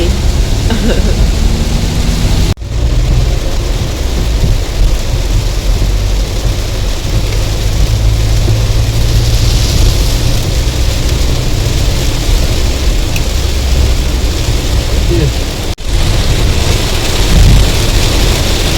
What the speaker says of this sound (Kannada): ಇಲ್ಲೂ ಸಹ ಮಳೆ ಉಂಟು ದಾರಿಯುದ್ದಕ್ಕೂ ಮಳೆಯೇ